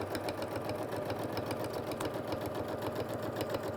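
A sewing machine quilting with templates hums in a steady, continuous mechanical whir with fast rhythmic needle ticking, close and moderately quiet.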